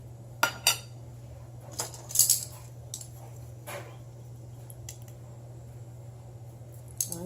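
A utensil mixing batter in a bowl gives a few sharp clinks and soft scrapes at irregular moments over a steady low hum, close by and fairly quiet, with no talking.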